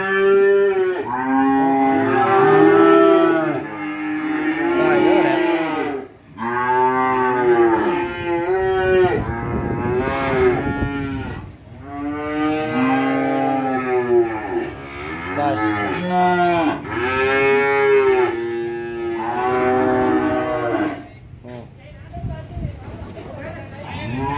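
Cattle at a cattle farm moo in long, deep, drawn-out calls, several in succession, loud and close, with people talking in the background between calls.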